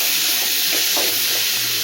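Chopped tomatoes and capsicum sauté in a hot pan, giving a loud, continuous hissing sizzle with faint stirring movements underneath and no talking.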